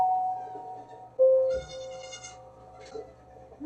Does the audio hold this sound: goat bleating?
yes